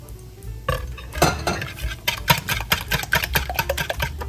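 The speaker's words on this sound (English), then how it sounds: "in this bowl, we're going to whisk our concoction together" Cream mixture whisked in a bowl: quick, rhythmic metallic scraping and clinking of a whisk against the bowl, close and fairly clear, starting sparse and settling into steady fast strokes with no talk.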